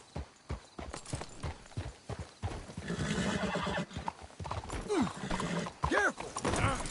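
Horse hooves clip-clop steadily while a horse whinnies twice, close and clear, amid background voices and game-like ambience in the video game Red Dead Redemption 2.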